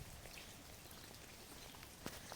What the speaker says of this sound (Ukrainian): Малесенький ще дощик іде.